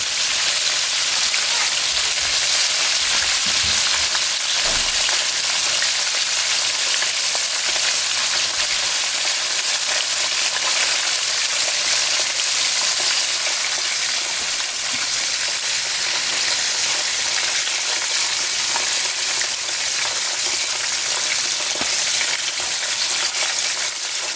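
Buttermilk ranch chicken wings deep-frying in hot oil, giving a loud, dense, unbroken sizzle that runs the whole time like heavy rain, close up, with no voices over it.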